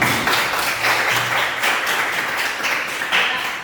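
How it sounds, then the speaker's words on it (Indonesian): Classroom applause during a student presentation on the five principles of Islamic law, with dense, loud clapping from a group of pupils that carries on steadily and fades slightly near the end. "Iya, kita berikan aplaus untuk bersama."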